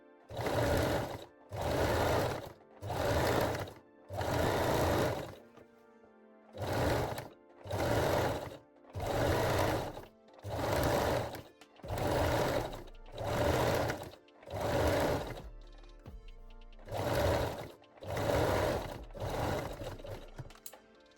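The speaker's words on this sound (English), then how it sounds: "And sew it with this not straight but zigzag stitch" A domestic sewing machine runs a stretch zigzag stitch along the bottom edge of a lace bralette, in about eleven loud, even bursts of a couple of seconds each, separated by short pauses.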